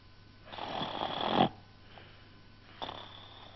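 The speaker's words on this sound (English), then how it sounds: "Listen to him snore," Loud, rasping snore drawn out for about a second, followed by a shorter, fainter snore after a pause.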